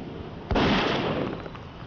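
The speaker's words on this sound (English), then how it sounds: "Do you think I could shoot the dude here? With my new rifle?" A single sharp rifle shot rings out in the Grim Tales 2 video game, a loud sudden bang with a brief rumbling tail that fades over about a second.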